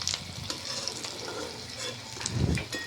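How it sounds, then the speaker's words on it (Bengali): Jackfruit dumplings fry in hot oil, a steady sizzle with stirring and scraping through the pan and a louder bubbling burst near the end. "এঁচোড়ের মুইঠ্যা আমি তেলের মধ্যে সব ছেড়ে দেবো"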